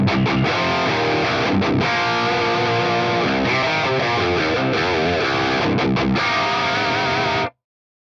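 Heavily distorted electric guitar through an Axe-Fx III amp modeler plays a loud riff with sustained, crunchy chords and quick note changes, then cuts off abruptly.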